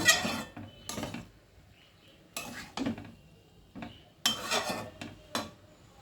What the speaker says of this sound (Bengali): আলু পটল সব কিছুর সঙ্গে মশলাটাকে খুব ভালো করে আমি মাখিয়ে নিচ্ছি